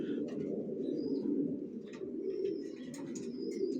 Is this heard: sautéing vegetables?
no